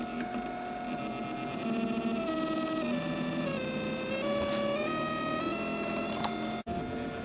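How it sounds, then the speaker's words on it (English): A RepStrap Mendel 3D printer draws with a pen, its stepper motors whining in shifting pitches as the head moves steadily, with one brief dropout near the end. "Let's just press print, see what I get."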